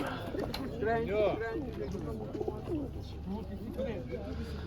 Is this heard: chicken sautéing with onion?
no